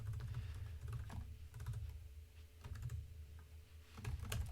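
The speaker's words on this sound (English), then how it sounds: "if I can type," Quiet, close-up typing on a computer keyboard in short bursts of rapid key clicks, with brief pauses between words while filling in an online form.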